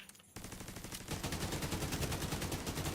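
Enemy gunfire in a video game, a loud sustained stream of rapid automatic shots in a fast regular rhythm after a brief quiet start, with no talk.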